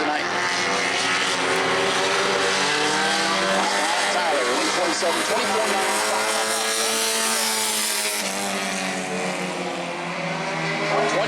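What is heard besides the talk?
bomber race car on qualifying lap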